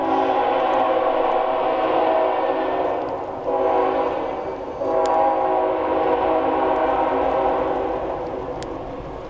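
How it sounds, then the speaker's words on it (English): A passing train sounds its horn in long, loud, sustained blasts with brief gaps, over a continuous rumble of the train, fairly close and alone without talk. "There's the train."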